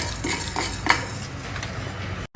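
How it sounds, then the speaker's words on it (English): Red chilli and tuvar dal dry roasting in a pan, with metal utensil scrapes and light clinks over a steady low sizzle-like hiss, plus one sharper clink near the middle. "We'll dry roast all these ingredients and then make a powder."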